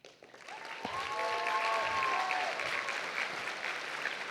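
Graduation audience at Richmond Academy bursts into sustained applause, a dense wash of clapping swelling after a quiet start and holding steady, with a few whoops and cheers rising above it.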